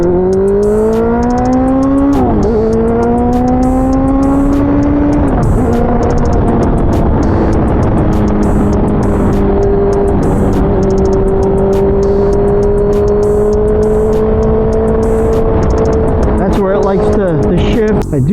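A Honda CBR650F motorcycle's inline engine revs high near 8,000 rpm, its pitch climbing, dropping at shifts and holding steady, loud and close with wind noise over it.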